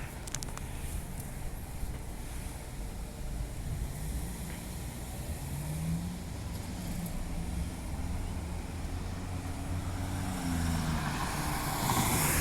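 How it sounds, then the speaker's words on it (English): A Perth CAT bus pulls in with a low engine rumble that builds steadily and stays near the listener for the whole stretch, with no one talking over it. "There comes the bus now."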